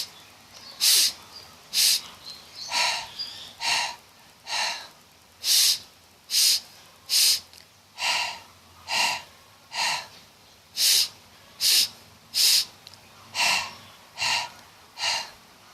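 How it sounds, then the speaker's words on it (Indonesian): Someone breathes in and out through the nose in a steady, deliberate rhythm, about fifteen sharp, close, airy sniffs and exhales evenly spaced, with no talking. "mengambil nafas dari hidung kemudian buang."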